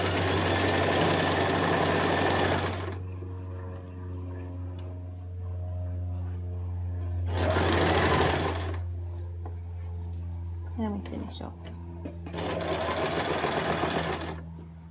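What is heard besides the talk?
sewing machine stitching a ruffle skirt seam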